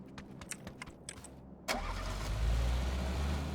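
A car engine turns over and settles into a low, steady idle in a video game, preceded by a few light clicks and rattles, the rumble swelling and holding close and fairly loud.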